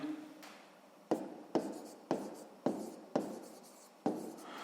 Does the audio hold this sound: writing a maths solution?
yes